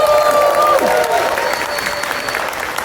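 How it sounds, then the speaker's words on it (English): An audience at a furry convention opening ceremony breaks into loud, sustained applause, a dense crackle of many hands with a few faint voices and whistles rising through it. "So big round of applause."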